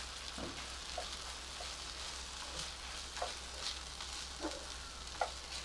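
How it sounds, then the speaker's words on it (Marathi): Ginger-garlic paste and green chilli pieces sauté in a pan for bhindi masala, with a soft steady sizzle and scattered faint pops and light stirring scrapes, quiet and close, with no talk. "1 चमचा आलं लसूण पेस्ट, 2 हिरव्या मिरच्यांचे तुकडे. हे आधी परतून घेऊया आपण."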